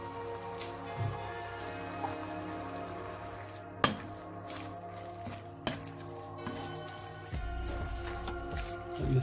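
Vegan lasagna sauce simmers in a pan, a steady soft bubbling and spattering with occasional sharper pops and drips, moderately close and without talk.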